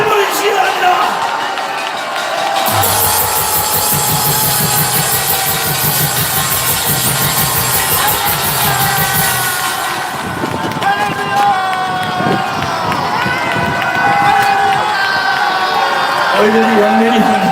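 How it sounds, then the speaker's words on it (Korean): A large rally crowd in Gwanghwamun, Seoul cheers and applauds loudly for a pastor's speech, a dense roar of clapping and shouting with a voice over a loudspeaker at the start and later. "큰 박수를 보내주시기 바랍니다"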